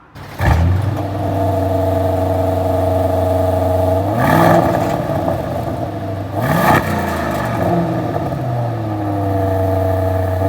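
The 4-liter twin-turbo Mercedes-AMG V8 of a 2021 Aston Martin DBX idles with a deep, steady rumble, then roars through two sharp revs before settling back, loud and close.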